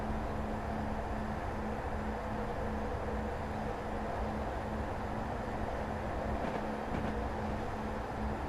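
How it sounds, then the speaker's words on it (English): A diesel multiple unit train runs steadily in a rail simulation, a constant broad rumble with a sustained low engine tone and no voices. "It's a DMU."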